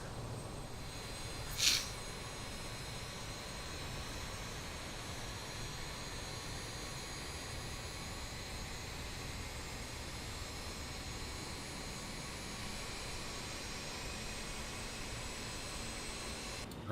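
Engine number 2 of an Avro RJ100 jet spools up in the flight simulator game MSFS 2024, a continuous broadband whine and rush holding steady after a brief click near the start.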